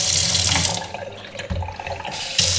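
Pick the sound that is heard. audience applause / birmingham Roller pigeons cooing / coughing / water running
water running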